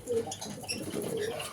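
Fancy pigeons in a loft give soft, low cooing calls, a few rounded coos rising and fading against a steady background with no talking.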